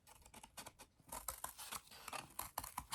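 Scissors snip repeatedly through material while a mini Persian carpet loom is being made, a quick run of close, crisp cutting clicks and rasps, quiet and steady with no talking.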